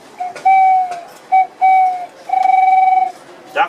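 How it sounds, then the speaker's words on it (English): Owl caller whistle demonstrated at a show: several near, clear hooting tones, short and longer, with a final warbled note and brief gaps between them. "An owl caller."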